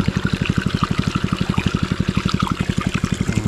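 A Robin water pump engine idling low throbs in a fast, even pulse while water gushes and trickles steadily into an irrigation channel, loud and close with no talk.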